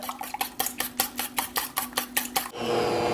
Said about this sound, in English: I have 3 eggs and I just need to whisk them gently for a moment